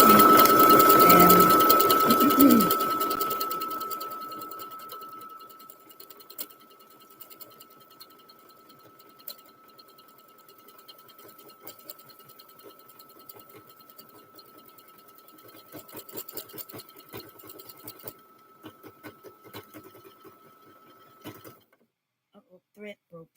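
A sewing machine stitching a pattern on a Simplicity 8088 male scrub top, loud steady whirring motor for the first few seconds, then fading into sparse ticking and clicking of the mechanism until it stops.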